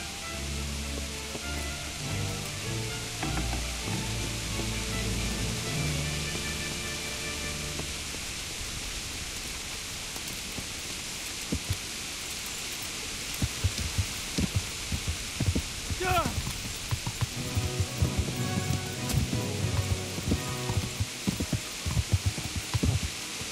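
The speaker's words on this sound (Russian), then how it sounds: "Блин, опять дождь фигачит." Steady rain falling in the medieval game Kingdom Come: Deliverance, a continuous hiss with soft patter, later joined by low throbbing thumps and someone talking over it.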